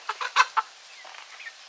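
Chickens being herded give four sharp, loud clucks in quick succession, followed by a few softer, scattered clucks and chirps as the flock moves along.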